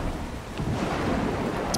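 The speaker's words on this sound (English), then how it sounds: "because it's raining and it's loud as fuck" Heavy rain with a low rumble of thunder in the video game ARK, a loud, dense, continuous roar of downpour filling the whole moment with no voices.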